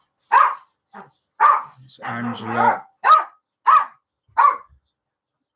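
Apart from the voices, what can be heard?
dog barking at home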